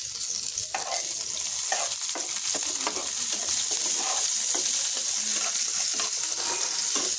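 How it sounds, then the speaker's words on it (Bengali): Onions frying in a small amount of oil in a pan give a steady close sizzle, with repeated scrapes and knocks of stirring running through the hiss and no talking. "পেঁয়াজটাকে ভালো করে ভেজে নেব।"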